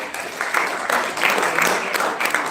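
Audience applause at a university group discussion event, a steady broad wash of clapping from a crowd, fairly loud and continuous throughout with no talk over it.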